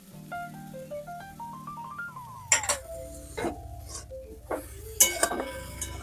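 Vegetables for drumstick flower and lentil dumpling curry, with chilli, cumin and coriander powder, are stirred in a pan after a brief musical jingle, giving several sharp metal clinks and scrapes of the spatula at close range.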